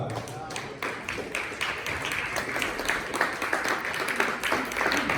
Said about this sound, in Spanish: Denle palmas a la palabra.